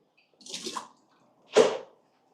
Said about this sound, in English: let's pull this out, pour the water away